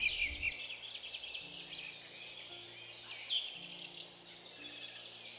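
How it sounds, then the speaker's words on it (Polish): Birds chirp and trill continuously in the open air during spring courtship, males singing several overlapping calls at moderate distance, with a low steady hum underneath. "Wiosną, w czasie zalotów, ptasi koncert brzmi niepowtarzalnie."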